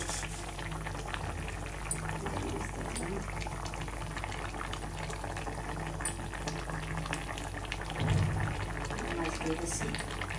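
Bottle gourd curry with shrimp simmering and bubbling steadily in a pot as pieces of pangas fish go in, with a brief louder splash-like disturbance near the end, heard close and continuous.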